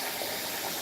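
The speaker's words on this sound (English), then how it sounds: "So I'm just going to add water." Water is poured into a cooking pot of beef for Taiwanese gua bao, a steady close hissing gush that runs without a break and without talk.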